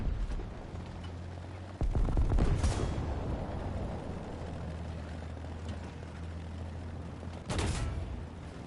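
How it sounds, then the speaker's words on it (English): Gunfire in War Thunder, the World War II vehicle combat game: two heavy blasts, one near the start and one near the end, over a constant engine drone and rumbling battle noise. "Man, why are you shooting me, buddy?"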